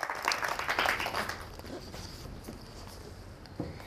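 Audience applause welcoming a young guest named Khadija onto a children's TV show, with clapping loudest at the start and then thinning into a steady patter, along with some background noise.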